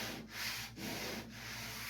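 A hand rubs back and forth over rough paint overspray on the dash of a chopped 1937 Pontiac, producing a close, faint, raspy scraping in three or four even strokes.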